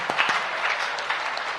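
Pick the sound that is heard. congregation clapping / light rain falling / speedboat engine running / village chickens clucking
congregation clapping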